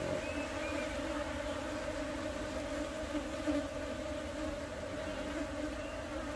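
A dense, even drone of worker bees fills a hive being inspected before the honey season, close and steady throughout with no talking.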